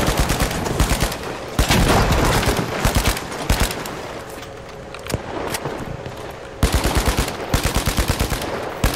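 Automatic gunfire in the video game The Finals, loud rapid bursts of shots rattling in repeated volleys with a short lull in the middle, close and dominant throughout.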